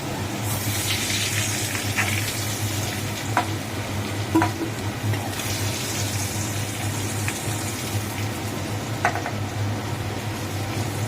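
Potatoes fry in hot oil with a steady, close sizzle and bubbling that runs the whole time, broken by a few faint clinks of a utensil.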